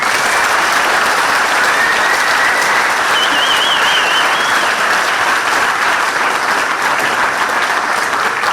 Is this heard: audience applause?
yes